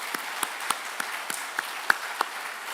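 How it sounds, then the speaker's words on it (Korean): A church congregation gives welcoming applause, heard as a soft, steady patter of clapping with a few sharper individual claps standing out against a quiet background. "우리 환영의 박수 한번 부탁드리겠습니다."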